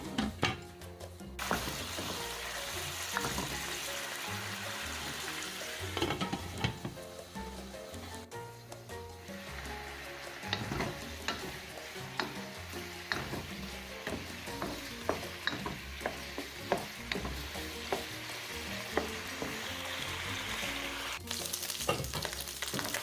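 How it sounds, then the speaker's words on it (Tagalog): Pork for pinakbet fries in a wok with a steady, crackling sizzle throughout, broken by frequent small spatters and the clicks of stirring. "We'll be cooking this pork until tender and golden brown in color."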